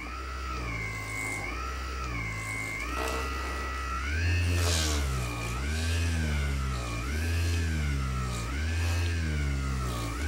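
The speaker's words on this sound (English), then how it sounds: "When you squeeze it, it does affect the motor, and that's me simulating pushing it against something that you're trying to massage." The vibration motor of a Hypersphere massage ball hums as the ball is squeezed, its pitch dropping and rising again in a regular wavering pattern, close and clear.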